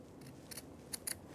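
Four quick, quiet snips of scissors cutting a fabric seam allowance while draping the back of a Madeleine Vionnet dress, spaced in two pairs against a soft background hiss.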